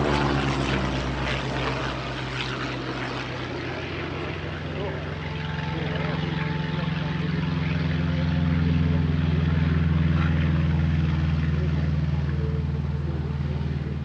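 Vintage warbird propeller aircraft flying at an airshow, its engine drone steady and continuous, swelling somewhat louder toward the end, with a voice talking over it.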